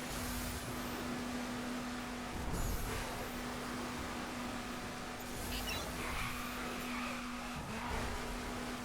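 A car drifting in The Crew 2 racing video game, a steady engine drone with a constant hum and brief rising tire squeals recurring across the run, moderately quiet.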